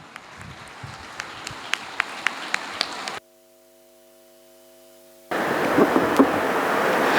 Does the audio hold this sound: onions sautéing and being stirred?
no